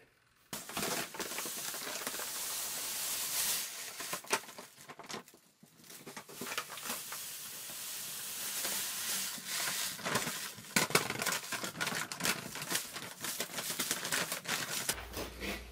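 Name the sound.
adding Pilsner malt grain into mash tun water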